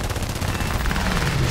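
Machine gun fire from a plane in the air combat game War Thunder, a brief rapid rattle of shots over a steady engine drone, close and continuous.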